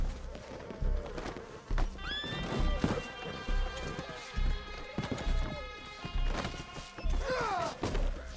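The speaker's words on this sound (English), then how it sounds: "These fucking horses." Horses neigh and whinny several times over repeated clip-clopping hooves and thuds in the game Red Dead Redemption 2, a busy, continuous stretch of sound.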